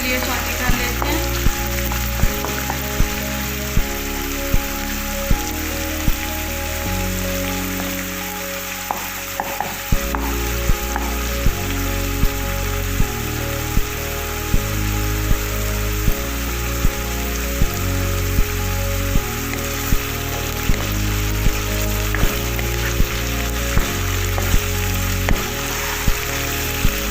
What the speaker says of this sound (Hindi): लहसुन और अदरक का पेस्ट जो है वो अच्छी तरह सौटे हो गया।